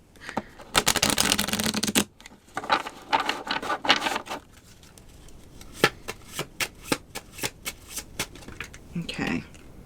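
Regular playing cards are shuffled by hand in quick, loud riffling bursts, then tapped and flicked in softer, evenly spaced clicks, with a faint voice near the end.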